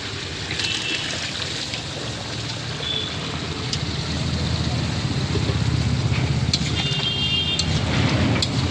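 Potato and soybean chunks fry in a pan of spice masala, giving off a steady, even crackling sizzle that swells slightly toward the end.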